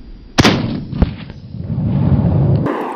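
Two sharp 9mm pistol gunshots fired at a steel target plate 110 yards away, loud and close, the second quieter with a short echo and outdoor ambience trailing after.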